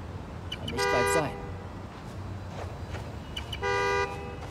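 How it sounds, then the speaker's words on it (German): A car horn in the Spider-Man: Miles Morales video game honks in two sustained blasts about three seconds apart, loud over a low city background. "Je nerviger das Hupen wird, desto näher komme ich. Eine schöne Hupe."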